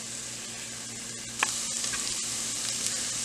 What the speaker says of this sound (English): we have been cooking these onions for 4 minutes